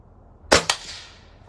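A Norica Dragon .25 caliber pellet gun fires once, close and sharp, followed a split second later by a second crack, likely the pellet striking, with a brief fading tail in a quiet setting.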